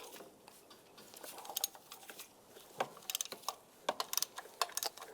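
A ratchet with a 16mm socket loosens a mount bolt on a 1999-2005 Volkswagen Jetta during timing belt work, giving quiet bursts of rapid clicking and metallic taps in irregular clusters close by.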